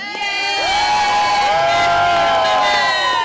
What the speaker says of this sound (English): Let's have a cheer for nasty women